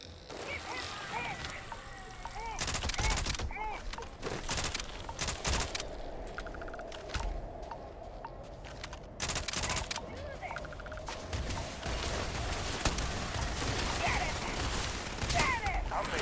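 AK rifle fire in a pirate-themed video game crackles in several loud sharp bursts, separated by quieter stretches with background game sounds.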